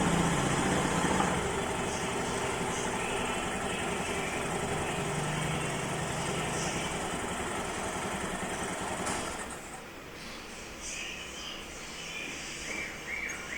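Honda Vario 110 scooter engine idling after CVT belt work, a steady close mechanical drone that drops slightly toward the end, heard alone without talk.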